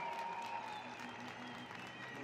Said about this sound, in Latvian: Jā, uztaisām aplausus Artur Altmets